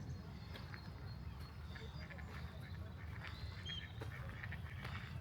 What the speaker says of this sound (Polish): O, nawet tutaj jedna taka kaczuszka się pojawiła.